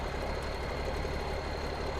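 An old-school skidder tractor idles in Farming Simulator 17, a steady, even engine drone at constant level with no speech.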